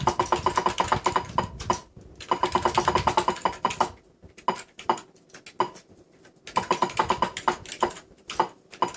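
Rapid typing on a computer keyboard while programming in Atari BASIC, keys clattering in quick bursts with short pauses between runs, close and steady.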